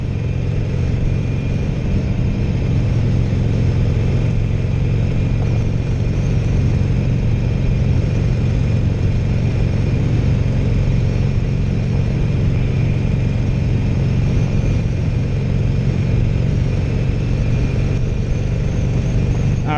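A 2016 Harley-Davidson Roadster motorcycle being ridden hard between traffic lights, a loud, continuous low engine drone mixed with wind rush, steady for the whole stretch without clear gear changes.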